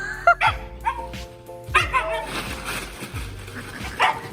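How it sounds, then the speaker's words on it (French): A dog barks angrily in repeated sharp bursts, with yips and whimpers, at a pallet jack being moved during a home renovation, close and loud over clanking background noise. "Qui dit toucher au transpalette dit mettre en colère le chien."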